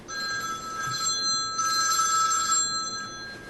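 Telephone ringing indoors, two bright electronic rings separated by a short gap, moderately loud over a faint room hum, with no voices.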